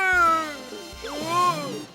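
A cartoon cat meows loudly and clearly up close, a long drawn-out call followed by a second rising and falling meow.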